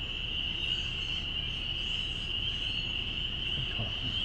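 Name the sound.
spring peeper frogs calling outdoors in early spring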